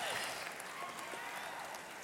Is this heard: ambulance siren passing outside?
no